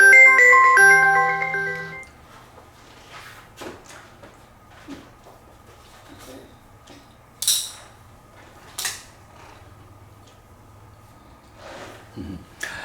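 A phone ringtone from an incoming call during a Buddhist sutra lecture, a short tonal melody of about two seconds at the start, followed by quiet room sounds and light clatter.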